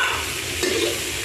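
Bean sprouts sautéing in a pan as ginisang toge, with steady close sizzling and a brief stirring scrape midway; no talk.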